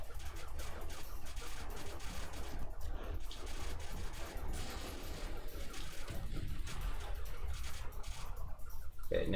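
Rapid weapon fire in the sci-fi platformer Ratchet & Clank: Size Matters, a dense, continuous barrage of shots and blasts filling the whole stretch with no talk over it.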